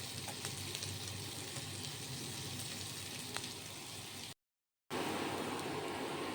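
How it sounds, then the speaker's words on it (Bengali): Onions frying generously in a kadai on a home kitchen stove, a steady close broadband sizzle that runs continuously, cuts out briefly near the end, then resumes. "পেঁয়াজটা আমি বেশি করে ভেজে নিচ্ছি"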